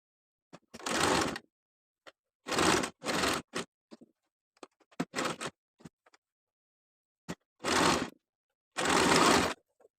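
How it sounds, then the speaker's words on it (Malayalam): A sewing machine stitching a frock runs in short bursts of about a second each, separated by quiet pauses and small clicks and handling taps, fairly close and without talk. "ഇത് നമുക്കിനി തിരിച്ചിട്ടിട്ട് സ്റ്റിച്ച് ചെയ്ത് കൊടുക്കാം"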